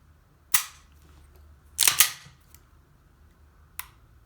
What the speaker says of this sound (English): Do a function test. Decock lever is working.